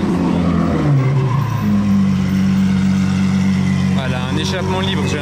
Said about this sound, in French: Voilà, un échappement libre, j'ai l'impression.